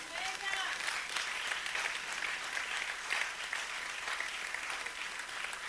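A church congregation claps together in sustained, dense applause at a steady level, with scattered voices mixed into the clapping throughout.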